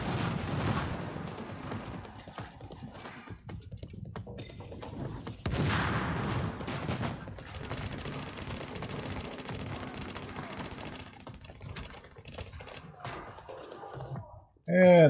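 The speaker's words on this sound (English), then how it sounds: "So just stand here and shoot them all." Gunfire in The Division video game while fighting bosses, bursts of rapid shots and heavier blasts over several seconds, fairly close, with game sounds blending and a loud burst at the end.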